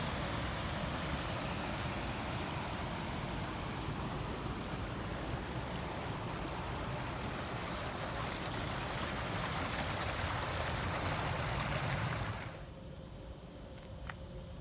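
Steady rushing water from waterfalls in a Japanese garden beside a tea house on a fall afternoon, a continuous broadband wash close by that drops sharply quieter near the end.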